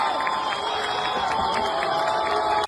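A large crowd in Iran cheers and shouts loudly and continuously at the sight of a lion and sun flag, a dense roar of voices that holds steady, then cuts off abruptly.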